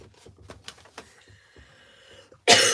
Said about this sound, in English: You're coughing again, aren't you?